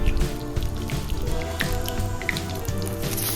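Fennel seeds crackle in hot coconut oil in a pan while Pallipalayam chicken is being cooked. Close, steady sizzling is broken by quick wet pops and spits.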